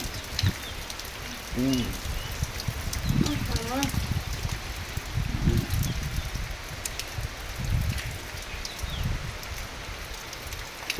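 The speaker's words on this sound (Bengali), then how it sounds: "তোমরাকে বৃষ্টিটা কেমন লাগছে তোমরা কমেন্ট করে জানাবে" Rain falls steadily as an even hiss and patter, with brief voice-like sounds heard faintly in the background.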